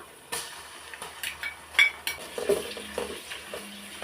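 Ginger and garlic sautéing in a pan for chicken biryani, with a soft background sizzle broken by several sharp clinks and scrapes of a utensil against metal, close and without speech.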